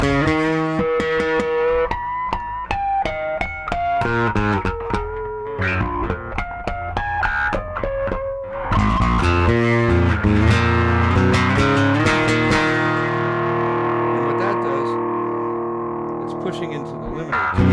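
Electric guitar played through a boost pedal on a pedalboard, with distorted, sustained chords and single notes, loud and close, its drive thickening partway through as the boost kicks in and ringing out at the end.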